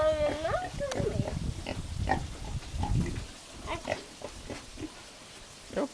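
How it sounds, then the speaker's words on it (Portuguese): A pig grunts and oinks repeatedly at close range on a countryside farm outing, short snorting bursts scattered among voices talking over it. "É o porco, amor."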